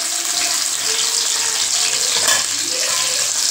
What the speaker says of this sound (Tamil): நான் ஒரு 2 வெங்காயம் நறுக்கி வச்சுருக்கேங்க. இப்போ அது இதில் போட்டுக்கலாம்.